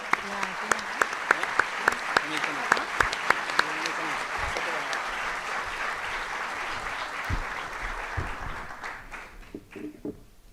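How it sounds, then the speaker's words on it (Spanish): Crowd applause as union leader Héctor Daer of the CGT is called to the stage at a Peronist event, a loud sustained wash of clapping with sharp nearby claps early on, fading out near the end. "Un aplauso, por favor."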